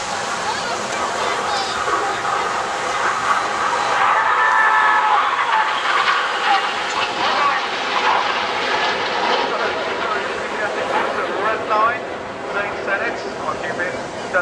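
RAF Red Arrows jets trailing diesel smoke roar overhead during a display at the Bournemouth Air Festival, a loud, sustained broadband jet rush that swells and fades as a commentator talks over it.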